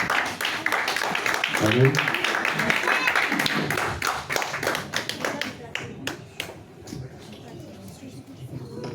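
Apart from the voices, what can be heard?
church congregation applauding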